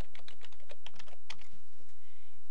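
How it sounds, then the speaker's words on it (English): Password being typed on a computer keyboard during an online store checkout: a quick run of crisp, close key clicks in uneven bursts, then a short pause, with no talking. "I'm going to type in my password here"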